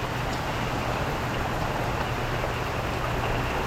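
Steady rain falls at an RV campground in Williamsburg, Virginia, a dense even hiss continuing unbroken and moderately loud with no voices over it.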